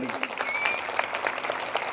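Audience applause at a Hindi-language religious gathering, a dense wash of claps held steady at moderate level for two seconds, with brief tonal sounds riding over it.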